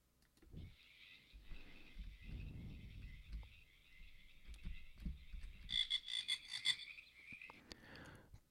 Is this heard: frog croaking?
yes